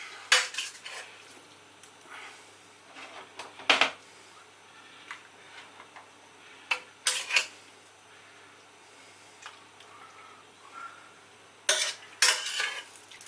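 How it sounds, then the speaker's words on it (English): Steak and ale pie filling is ladled into pie dishes, giving intermittent metallic clinks and scrapes of a ladle against pot and dishes, separated by quiet pauses, with no talking. "Spoon it in evenly with a ladle."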